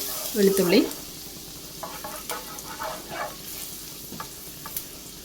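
Garlic and chilli flakes sizzle in butter in a pan while being stirred for a creamy macaroni pasta, with a louder scrape at the start, then a steady fry hiss and light spoon knocks up close, no talk.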